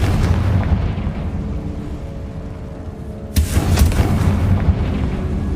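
A Confringo spell explodes in the video game Hogwarts Legacy: one sharp, booming blast lands partway through over a continuous low game ambience, then fades into a rumbling tail.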